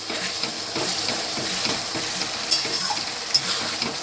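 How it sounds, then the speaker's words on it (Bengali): Masala with tomato paste and green chilli paste sautéing in a pan, a steady close sizzle with soft repeated scraping strokes of stirring and a couple of light utensil clicks, no voices. "এবার আমি এটাকে সুন্দর করে কষাবো"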